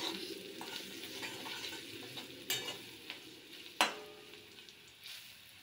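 Chopped onions fry in a pan for an old-fashioned home-style bori curry, with a steady sizzle under scraping stirs and a few sharp clacks of a spatula against the pan.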